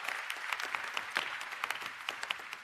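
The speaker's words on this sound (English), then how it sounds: "The associate deans always get the most applause" Applause at a college arts and letters graduation ceremony, a fairly faint, steady patter of many hands clapping from an audience.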